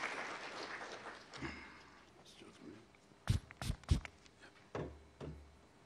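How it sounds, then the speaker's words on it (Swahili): An official signing ceremony, where a crowd's applause rises under a speaking voice, then a few louder claps and bumps break through near the microphone before fading. "Naomba tumpigie tena makofi mengi"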